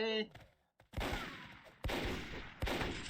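Gunfire in the online shooter game Microvolt Recharged: three loud, sharp bursts of shots, each fading into a rumbling tail. Quieter clicks come before the first burst.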